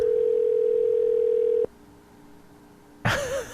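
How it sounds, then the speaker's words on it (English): A telephone ringback tone sounds on an outgoing call to a drywall company: a steady, loud, slightly warbling tone holds for about a second and a half, then cuts off to near silence before a voice briefly starts. "I can hear ringing."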